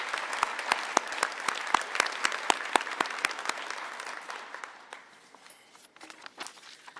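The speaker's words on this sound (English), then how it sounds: "Let's give you all a round of applause" A graduation audience at an adult and family education commencement applauds, with crisp, fairly distinct claps in a steady patter that gradually thins and trails off.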